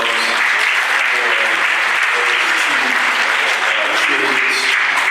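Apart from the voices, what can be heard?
applause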